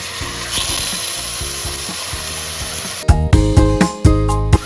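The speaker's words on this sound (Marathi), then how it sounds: "आता आपण हे मटण टाकून घेऊया।" Mutton pieces dropped into a pan of sizzling fried garlic and ginger for a Marathi mutton curry, steady frying sizzle that turns into loud clattering bumps of meat and utensil against the pan near the end.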